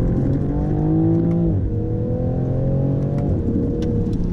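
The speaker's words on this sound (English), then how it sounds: "anywhere pretty much in the rev range that you breathe on that throttle," A 2020 Toyota Supra accelerating hard on a damp track, its engine note rising steadily through the revs with two quick dips at gear changes, loud and close throughout.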